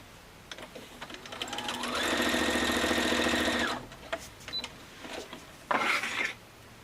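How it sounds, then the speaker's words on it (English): A sewing machine stitches two quilt pieces together in one steady burst of about two seconds, with a quieter short run of stitching afterward and light handling noises around it. "now these 2 just get sewn together"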